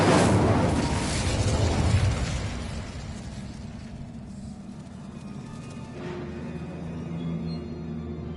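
A fiery Incendio spell blast from the Hogwarts Legacy video game, opening with a loud burst and crackle that fades over a few seconds into a low rumbling tail.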